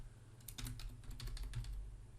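Computer keyboard typing, a quick run of soft close key clicks over a faint low hum, lasting about two seconds without talk.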